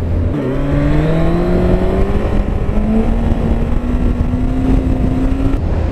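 Honda CB1100 cafe racer motorcycle engine revving nearby, a loud, steady drone whose pitch rises smoothly through a long pull after a brief dip, with no voices.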